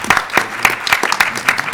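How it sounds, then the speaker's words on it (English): Audience applause at the close of a scientific conference session on disaster and geohealth research, a short burst of scattered, uneven clapping heard fairly close. "Let's give them a round of applause."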